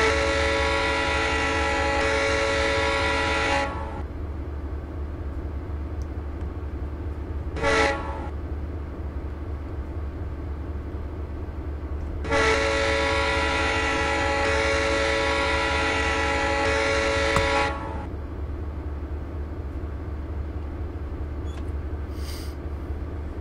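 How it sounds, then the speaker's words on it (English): Horn of an SP F7 diesel locomotive on Donner Pass in Train Simulator 2016 sounds in two long, loud blasts separated by a short toot, over steady engine rumble with no talking. "Whistle."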